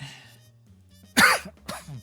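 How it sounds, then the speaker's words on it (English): A low hum gives way to a sharp, close cough, followed moments later by a second shorter cough. "Bit of the sniffles, a bit of a cough."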